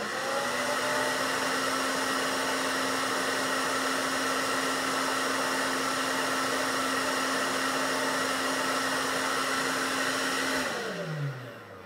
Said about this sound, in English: we are gonna turn on the hairdryer